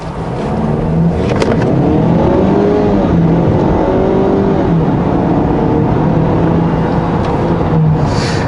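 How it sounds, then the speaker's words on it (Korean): Engine and road noise build steadily from inside a Lincoln Corsair SUV pulling away from a stop in normal drive mode, with the engine tone rising and shifting through gears under a loud, constant cabin rumble. "이 상태에서 한번 가속 성능도 한번 알아보죠."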